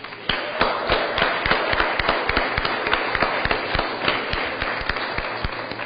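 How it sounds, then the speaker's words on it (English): A round of applause fills a Board of Aldermen council meeting as many hands clap at once, a dense, steady patter of sharp claps lasting throughout without letting up. "Let's give a round of applause to the New City School children who have joined us here today."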